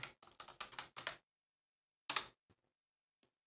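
Quiet typing on a computer keyboard: a quick run of about half a dozen keystrokes, then a pause, one firmer press and a few faint scattered taps, close and alone with no voices.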